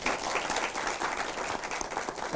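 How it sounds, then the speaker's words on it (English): Live studio audience applauding, a brisk, dense burst of many hands clapping close and steady, with a few scattered voices in the crowd. "And a round of applause for yourselves as well"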